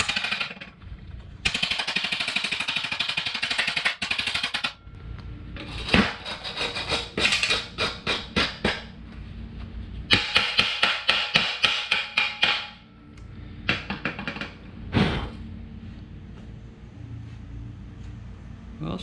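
A small Fitinhot handheld welder welds metal, its harsh buzzing arc coming in long runs and rapid sputtering, crackling pulses, loud and close with brief gaps.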